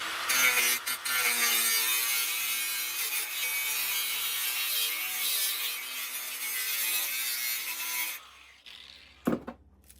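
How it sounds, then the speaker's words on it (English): A cutoff wheel grinds through metal during brush hog repair, a loud continuous high-pitched whine with a gritty edge for about eight seconds before it stops, followed by a couple of sharp knocks. "I went with the cutoff wheel here. Let's see how that works."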